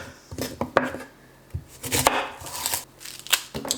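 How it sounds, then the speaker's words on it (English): A knife cuts an onion into chunks in about eight or nine sharp, irregular chops, close and crisp, with short pauses between the strikes. "And same with the onion, just go ahead and cut it"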